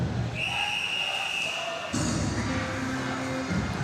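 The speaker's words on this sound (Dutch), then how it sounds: "En dit fluitsignaal weer omdat icing." Referee's whistle blown for icing at an ice hockey game, a sharp sustained blast inside the rink under crowd noise and an ongoing commentary voice.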